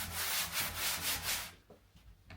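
An internal door gets a scuff sanding before painting, with close, rhythmic back-and-forth rasping strokes for about a second and a half, then a few faint scrapes.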